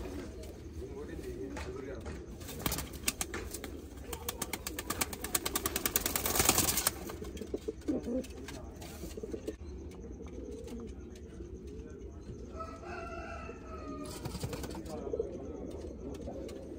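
Pigeons coo steadily inside a loft, with a flurry of clattering and wing flaps in the middle and soft calls continuing afterward.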